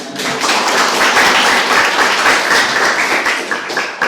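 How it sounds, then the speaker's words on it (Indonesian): A science classroom of students claps for a classmate, a close, lively burst of hand claps that stays fairly loud for a few seconds before tapering slightly. "tepuk tangan"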